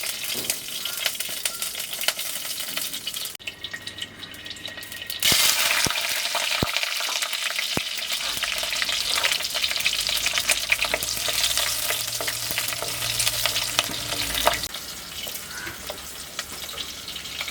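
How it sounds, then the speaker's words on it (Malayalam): Green chillies sauté in hot oil for a fish curry, a steady close sizzle broken by a short quiet pause, then swelling into louder, denser frying with stirring scrapes. "നമുക്ക് എണ്ണ ഒഴിച്ചെടുക്കാം. പച്ചമുളക് ഒന്ന് വാട്ടിയെടുക്കാം."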